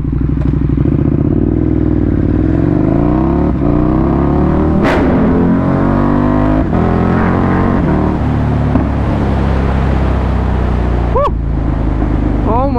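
A naked sport motorcycle, freshly serviced by HM Racing and making 160 horsepower, accelerates on the road, its engine roaring loud and close with rising and falling revs through gear changes, plus wind noise and a faint chirp.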